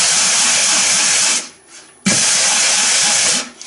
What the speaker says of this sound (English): I go put the lathe on as slow as I can, like that, and then I have my sandpaper on here and I'll do this